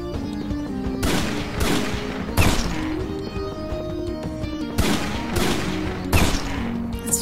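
Enemy gunfire in the video game Agent Awesome: dense, loud bursts of shots and impacts repeat in clusters throughout, with no talk over them.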